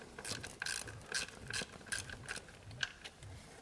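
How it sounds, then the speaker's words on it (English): A socket wrench backs out an ignition coil bolt on a GM 3100 engine, with quiet, quick ratcheting clicks in short, irregular bursts and no talk. "Once you can feel it, put the socket on, and we'll back it out."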